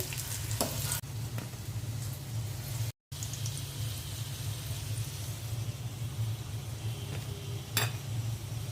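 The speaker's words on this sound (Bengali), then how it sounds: "বেগুন আলুগুলো ভাজা হয়ে গেছে, এখন আমি উঠিয়ে নিচ্ছি।" Eggplant and potato pieces fry in a pan with a continuous, moderately loud sizzle, punctuated by occasional scraping stirs and a brief gap midway.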